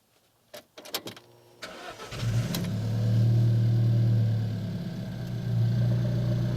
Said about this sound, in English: I'm going to go ahead and just restart the car and see if it records that as a crank test.